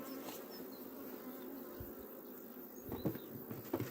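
A dense, steady hum of honey bees buzzing close by at a hive, with occasional louder buzzes of individual bees passing near.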